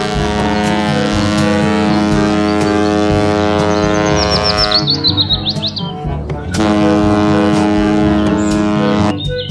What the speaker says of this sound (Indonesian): Yang ini ada kapal laut.